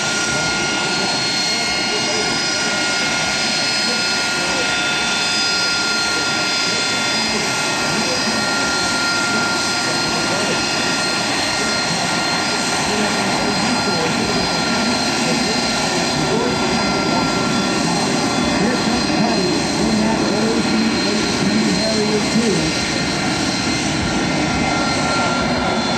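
An AV-8B Harrier jet taxis at an open-house air show, its engine giving a loud, continuous whine and roar with steady high tones throughout.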